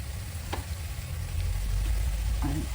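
Cabbage stir-frying in a pan, a steady close sizzle and crackle that swells toward the end, with faint utensil scrapes and no talk.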